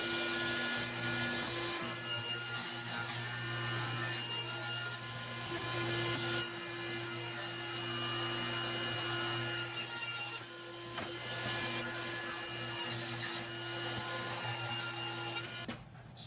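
Saw blades cutting boards for a wooden raised vegetable planter bed, a loud continuous rasping whine of wood being fed through, with short dips between passes.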